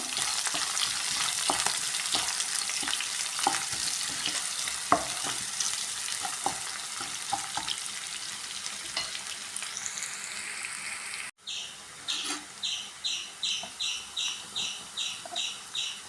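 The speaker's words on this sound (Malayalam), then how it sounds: "വേപ്പിൻ്റെല, വലിയ ഉള്ളി നന്നായി വഴറ്റി കൊടുക്കുക." Curry leaves and sliced big onion sauté in a pan for wheat upma, sizzling with a steady close hiss and occasional stirring scrapes for about eleven seconds before an abrupt cut to a rhythmic series of short, high chirps.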